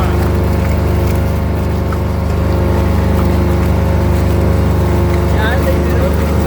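Motors of a T90 mixing and spraying rig held at full throttle, a loud, steady engine drone with a strong low hum and even tonal roar that barely changes, close by, with no clear talk.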